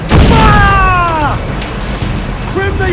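Ship cannons firing during a naval battle in the pirate game Assassin's Creed IV Black Flag: a heavy boom at the start with rumbling tail, overlapped by a loud shouting voice and game noise.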